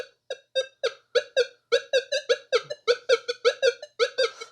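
A Minelab Manticore metal detector sweeping over a thin gold ring in a garage gives a rapid series of short, chirpy warbling beeps, about two dozen in quick rhythm, clear and close.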